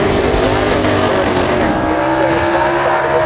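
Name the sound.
2006 Saleen Mustang race car engine, 333 cubic inch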